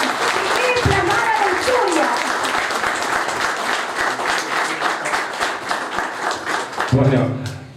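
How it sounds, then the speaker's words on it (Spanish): Strong applause from a gathered audience at a community book presentation, loud sustained clapping that swells and holds for several seconds before tapering, with a brief voice near the end. "Un fuerte aplauso porque el presidente comunal le hacía hace falta"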